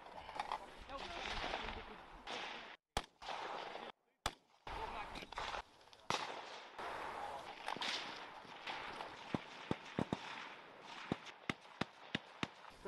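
Rifle fire cracks out during a simulated army assault by British Army officer cadets, with sharp, scattered shots heard outdoors. Voices shout orders in between, and a few louder cracks stand out near the end.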